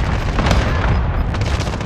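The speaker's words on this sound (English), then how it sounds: "Allied cluster strike arriving." A cluster strike goes off in a video game as a deep, rumbling boom that rolls on for about two seconds with a dense, sustained roar and no talk.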